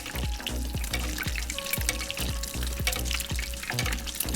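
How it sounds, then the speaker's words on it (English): Corn fritters fry in hot oil, a continuous close sizzle broken by repeated scraping taps as a spoon ladles oil over them in a loose, steady rhythm. "put your eggs in and then just take your spoon and put the hot oil on top of it"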